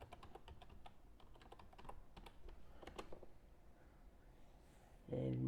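Someone types a password on a computer keyboard, a quick run of light, close key taps that slows and then stops before a brief louder noise at the end.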